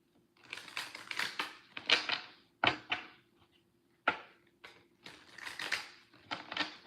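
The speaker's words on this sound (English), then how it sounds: "so let me shuffle one more time" Oracle cards shuffled by hand in irregular bursts of crisp riffling and slapping, with two sharp taps as the deck is squared, close and fairly quiet with no talking.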